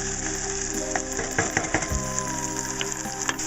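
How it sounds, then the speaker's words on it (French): Garlic frying and being stirred in a pan, a steady close sizzle with scraping stir strokes and a low hum of kitchen noise underneath. "On va mettre l'ail là-dedans. On mélange un petit peu. Et pour cuire l'ail juste un petit peu."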